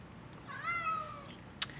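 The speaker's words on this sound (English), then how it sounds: "And then you see Tuco meowing in the background right on cue." A house cat gives one drawn-out, wavering meow in the background, fairly faint and indoors, followed by a brief sharp click.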